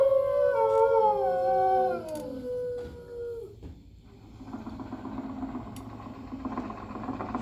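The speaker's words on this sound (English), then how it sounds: "using that old exercise machine she rescued from the attic" A dog howls in long falling notes, then an old 1920s exercise machine starts up, humming and buzzing steadily at moderate volume in the Carousel of Progress show.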